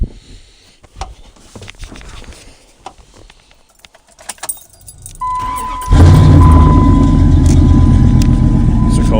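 Dodge truck engine cold-starting after a few seconds of faint rattling and clicks: a brief crank, then the engine catches and settles into a loud, steady rumbling idle, with a voice briefly heard early on.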